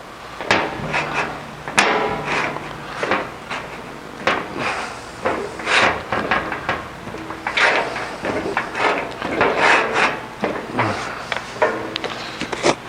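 A hammer lightly bumps out an aluminum Jaguar E-Type bonnet panel in a metal-shaping shop, with a long series of sharp, irregular taps and knocks that come close and fairly loud.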